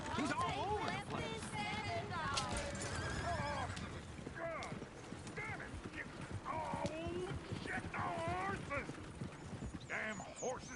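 Horses in Red Dead Redemption 2 whinny and neigh repeatedly, with steady clip-clopping hooves underneath, all under continuous talk.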